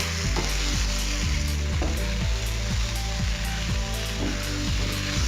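Apple slices for a tarte Tatin sizzle steadily in a pan while a spoon scrapes and stirs in regular repeated strokes, close and continuous with no talking.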